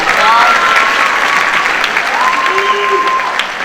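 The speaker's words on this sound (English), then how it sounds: "please give her a round of applause" An audience at a high school band show claps loudly and steadily for the whole short stretch, a dense close wash of applause with a few faint tonal sounds above it.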